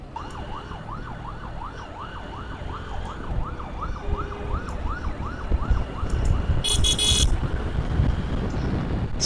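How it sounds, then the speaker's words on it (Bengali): An ambulance siren wails in a steady, repeating up-and-down cycle behind a motorcycle on a winter morning ride in Bangladesh, heard under continuous engine and wind noise, with a brief horn-like burst near the end. "সম্ভবত আমার পিছনে একটা অ্যাম্বুলেন্স আছে, তার সাইরেন বাজাচ্ছে।"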